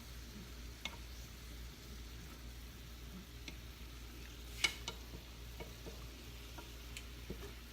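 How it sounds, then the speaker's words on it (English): A spoon stirs an arrowroot mixture in a pan, making faint, scattered scrapes and light taps over a low background hum, with no talking. "Stir all this together in the pan."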